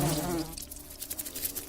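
Green wasps buzzing as enemies in the fantasy RPG Lords of Xulima, a close, steady insect drone with a fluttering texture that stays fairly loud throughout, with no voices.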